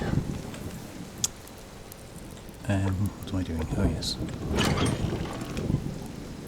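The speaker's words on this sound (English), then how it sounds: "So I'm going to wait for the rain to stop." Steady rain falls outdoors, making a continuous hiss, while a person speaks briefly nearby.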